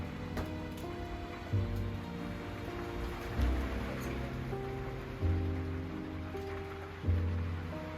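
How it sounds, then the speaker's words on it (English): Rain and wind sweep across an off-grid homestead on a cold morning, a steady hiss of falling rain and gusts under a soft recurring tonal background. "It's 11 degrees and raining and windy."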